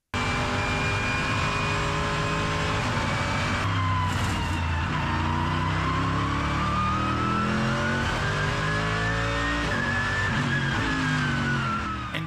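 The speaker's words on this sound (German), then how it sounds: "This is what it sounds like inside an ACC cockpit." Race car engine heard from inside the cockpit in Assetto Corsa Competizione, a steady loud whine that holds and then climbs through the gears, continuous and close with no talk.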